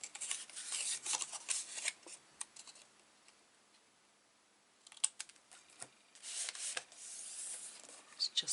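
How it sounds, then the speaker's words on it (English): Scissors trimming paper edges level while assembling an 8 x 10 mini album, giving bursts of close, crisp snipping and rustling separated by a quiet pause. "I'm going to trim them so they're level instead of trying to fold them around"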